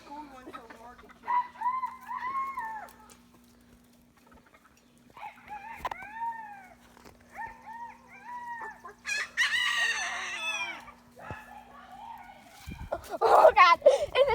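Chickens cluck and squawk in short bursts across the yard, with a steady low hum beneath, a louder flurry of agitated calls near the end and people talking amid the birds.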